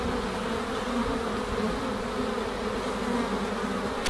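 A huge swarm of bees covering a man's body gives a dense, continuous buzzing drone, loud and steady throughout with no voices.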